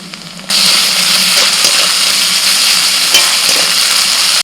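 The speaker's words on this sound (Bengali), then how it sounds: "পেঁয়াজটা ভেজে নিয়ে এবার আদা রসুন বাটা দিয়ে দিচ্ছি" Ginger-garlic paste and green chili paste hit hot oil with fried onion in a pan, bursting into a loud, steady sizzle that holds evenly until it cuts off.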